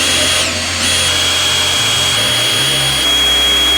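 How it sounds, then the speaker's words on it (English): A power drill with a 1/2 inch Forstner bit bores into wood for a countertop, a loud close continuous whine whose pitch shifts as the bit loads and frees up. "So we'll go 1/2 inch on the Forstner bit."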